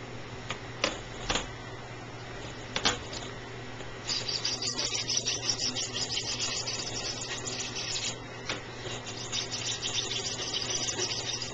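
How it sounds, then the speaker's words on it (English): Pollen shakers are shaken to sift. A few sharp knocks open the clip, then a steady, close, gritty rattling hiss continues without pause. "I want this video to show what it is that I do with the pollen shakers."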